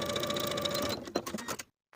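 A sewing machine runs a quick rhythmic stitch along a 3/8 inch fabric seam, joining the short edges of a boho top, for just over a second, then slows through a few clicks and stops.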